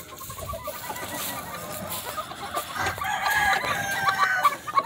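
Gamefowl chickens and pullets in breeding pens cluck and chatter close by, with a rooster crowing toward the end over rising farmyard noise.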